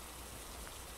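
Rain falling outdoors at night near a house, a steady close hiss of drops on surfaces with no voices.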